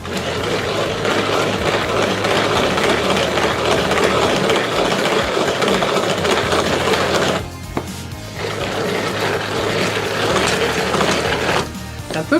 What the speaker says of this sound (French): nous allons mélanger de façon à ce que le mélange double